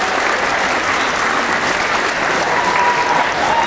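Audience applause fills a graduation ball (maturitní ples) hall, a steady dense clapping from many hands throughout, loud and continuous with no talk over it.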